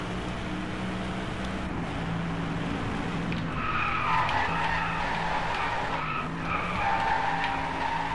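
A car drifting in the Driveclub racing game gives a long, steady tire squeal over a droning engine, rising into sharper, higher screeches midway, at moderate loudness with no voices.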